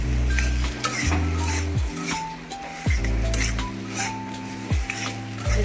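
Soybean and potato vegetables with spices frying in an iron wok, sizzling steadily beneath repeated scraping and clanking strokes of a spatula against the metal, loud and close.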